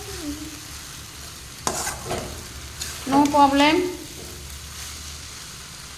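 Chowmein with carrots is stirred in a frying pan: a low, steady sizzle with a few quick scraping stirs, then a brief spoken phrase over the cooking.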